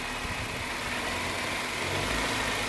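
Engine of a 2005 Honda City with a leaking, swollen, rusted coolant pipe, a steady loud close-up drone held under throttle without clear rises, no talking over it.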